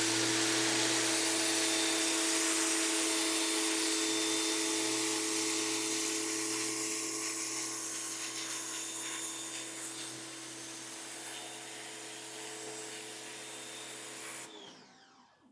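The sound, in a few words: Westinghouse pressure washer spraying with turbo nozzle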